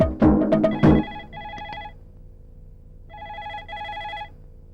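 A telephone rings in two bursts of electronic trilling after a few loud knocks, with a short pause between the rings and no talking.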